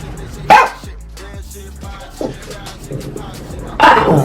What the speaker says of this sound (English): What are you growling at? Did you just growl?